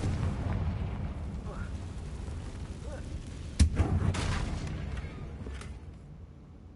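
A Confringo blasting spell in a Harry Potter game sets off one sharp, heavy boom midway over a rumbling battle backdrop, its roar slowly dying away while voices murmur.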